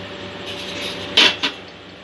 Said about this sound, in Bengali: কড়া বসিয়ে দিয়েছি